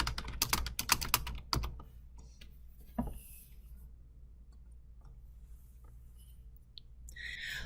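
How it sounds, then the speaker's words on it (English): Fingers tap out a quick burst of clicks on a student device's keyboard, close and crisp, then stop. A faint room hum fills the stretch that follows. "As I type on the student device, nothing shows up on the teacher device until I hit submit."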